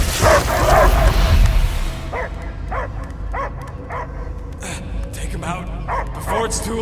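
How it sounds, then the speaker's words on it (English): In the Guardians of the Galaxy video game, a dog-like creature barks and yips in a string of short, evenly spaced calls. Loud rumbling effects play at the start, and voices talk around the barks. "I hear only barking."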